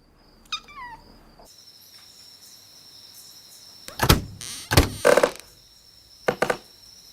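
A cat meows briefly near the start, followed by a series of loud thumps and clunks like a door or window, with a steady high electronic tone running underneath.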